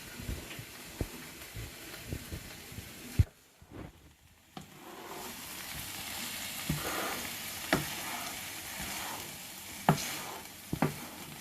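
A steady, gentle sizzle of frozen onions frying in a pan for chilli, with occasional scrapes and taps of stirring scattered throughout.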